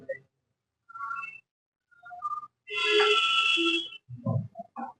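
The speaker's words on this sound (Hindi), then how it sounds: "फोन आ रहा है क्या कोई" A phone ringtone plays in one loud, brief burst in a quiet room, with someone speaking briefly before and after it.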